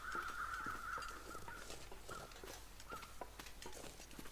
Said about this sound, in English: Looks like the crows are back.